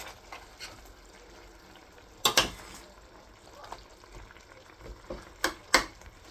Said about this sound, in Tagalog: Ayan, kumukulo na guys.